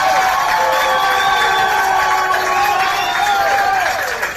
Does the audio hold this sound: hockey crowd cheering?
yes